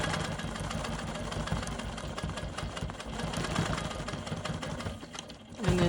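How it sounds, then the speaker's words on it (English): A Quilt Maker Pro 20 quilting machine stitches in the ditch on a rainbow quilt block, a steady close motor hum with a rapid needle chatter that eases off briefly before revving up again at the end. "I'm going to stitch in the ditch right here."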